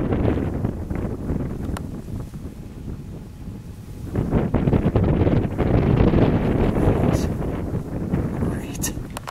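Wind blows off a mountain across an outdoor spot beside a 1957 Chevrolet Bel Air, buffeting the microphone in gusts that ease off and then return louder partway through.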